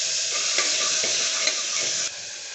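Tomato and spices fry in a hot pan with a loud, continuous sizzle and light stirring scrapes, cutting off abruptly near the end; no talking.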